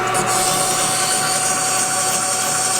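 A shop machine cuts 3/8 inch of metal off a flywheel in one pass, giving a steady, loud, dense grinding and whirring roar with no pauses or voices.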